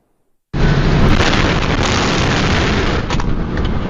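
A sudden, massive grain silo explosion at the TMO silos in Kocaeli, Turkey, erupts after a moment of silence, a loud sustained roar of blast and rumble that continues without letting up.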